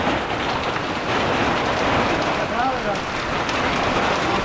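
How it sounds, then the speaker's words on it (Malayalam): Heavy rain falls near a shop as a steady, dense hiss of drops on surfaces, holding at a constant level for several seconds. "നമ്മൾ പോകാൻ വരുന്നപ്പോൾ ഭയങ്കര മഴ"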